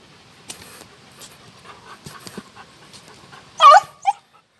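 Dogs digging a hole at the foot of an overgrown hill, with soft panting and scratching, then a sharp loud yip and a shorter whimper near the end, close and otherwise quiet.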